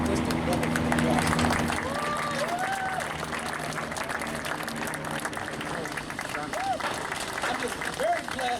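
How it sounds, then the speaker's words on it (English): Audience applauding and cheering at an event honoring Motown and the Midnight Mission, with steady clapping and crowd noise throughout and brief voices rising over it. "I want to give you, all of you, just a wonderful applause"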